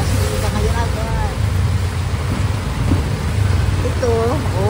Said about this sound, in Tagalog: malakas ang ulan kasi ngayon agad